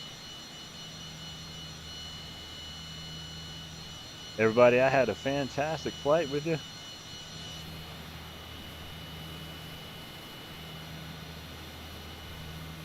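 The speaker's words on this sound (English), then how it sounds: "We're going to get taxied down here at the end of this and get the engine shut off." A private jet's engine hums steadily while taxiing in Microsoft Flight Simulator 2020, a continuous drone under a man's brief speech in the middle.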